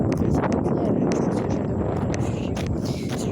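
Steady, loud wind buffets an outdoor microphone, a continuous rumbling roar with gusty rustle, with no clear voices over it.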